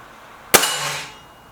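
A single shot from a suppressed Stoeger RX20 air rifle, a sharp close crack with a short fading tail, alone against a quiet background.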